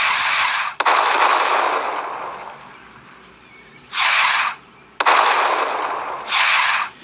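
Rocket launcher firing missiles in a strategy video game: loud broadband whooshing launch bursts, a long sustained roar followed by shorter repeated blasts, sharp onsets near 1 and 5 seconds, with no talking.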